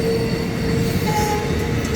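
A train at a station in the USA, Florida to New York, rumbles loudly and continuously with a high steady wheel squeal running through it, close by.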